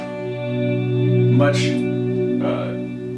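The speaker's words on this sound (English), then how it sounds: "when I throw the reverb along with the chorus and the delay, I add the delay" Sustained guitar swell soaked in reverb, chorus and delay, holding long shimmering tones with a slowly rising and falling level, while someone talks over it in the foreground.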